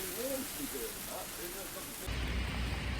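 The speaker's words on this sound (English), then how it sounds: "And it has started hailing, and it is freezing." Hail and rain falling in cold, stormy weather, a dense hiss of pellets that swells louder partway through, with a person talking softly over the start.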